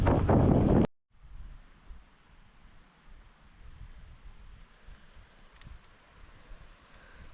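A loud gust of wind buffets the microphone for about a second beside a field irrigator near wheat fields, then drops to a soft, steady rustle of breeze.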